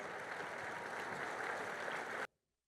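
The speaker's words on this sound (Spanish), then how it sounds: "les brindamos un fuerte aplauso" Applause from the audience at a national MFC gathering during a recognition ceremony, a steady even wash of clapping that stops abruptly.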